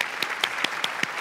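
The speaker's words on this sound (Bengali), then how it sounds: "ওনার জন্য জোরে হাততালি হবে।" Scattered, sparse handclaps from a studio audience at a televised Bangladeshi family reality show, about six distinct claps in a loose rhythm, fairly quiet and close, with no voices.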